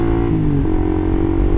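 Suzuki GSX R150 motorcycle fitted with an R9 Mugello exhaust, idling and revving in a steady, close, loud low rumble with no talk over it.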